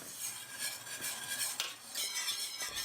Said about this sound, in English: Stir in the milk, salt, onion powder, pepper, and flour, and whisk until smooth.